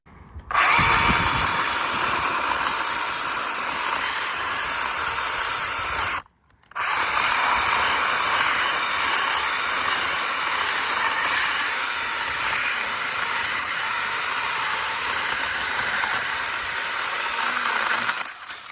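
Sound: cordless mini chainsaw cutting elm wood

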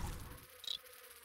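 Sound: fly enemy buzzing in The Binding of Isaac video game

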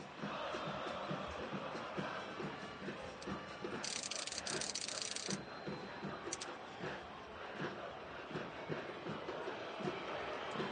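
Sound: football stadium crowd at Estadio Caliente roaring

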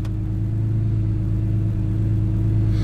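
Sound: BMW E46 M3 engine idling

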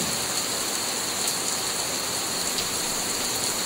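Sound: rain falling

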